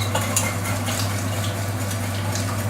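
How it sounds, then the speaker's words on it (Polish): Egg-and-flour mixture stirred into vanilla milk in a pot for a custard cream, with steady scraping and clinking of a utensil against the pot over continuous close kitchen background hum. "I teraz przelewam naszą mieszankę, naszą jajeczno-mączną mieszankę do mleka waniliowego. Cały czas mieszając."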